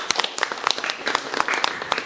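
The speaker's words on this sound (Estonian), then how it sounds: "Plaksutame." An audience applauds at an art school event, a short burst of scattered hand claps at moderate loudness, fairly close, with faint voices mixed in.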